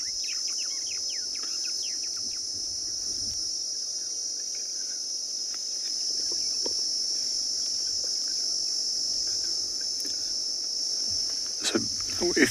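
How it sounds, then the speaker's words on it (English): Cicadas and insects calling in the South African bush, a steady loud high-pitched drone throughout, with scattered bird chirps and a brief sharper call near the end, no speech. "if you listen, you'll be able to hear these insects again"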